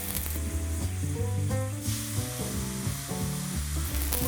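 Savoury Asian pancakes fry in a pan, with a loud, steady crackling sizzle of hot oil throughout, close up, while music plays along in the background.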